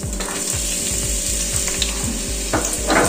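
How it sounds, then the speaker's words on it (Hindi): Onions fry in hot oil with cardamom, sliced ginger and red chilli for paneer butter masala. A close, steady sizzle runs throughout over a low, pulsing background hum. "अब हम इसमें अनियन डालेंगे।"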